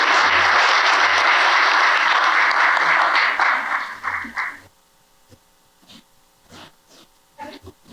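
Audience applause at a Knox Trail 250th commemorative program, loud and sustained for about four seconds before dying off into scattered faint claps and room noise.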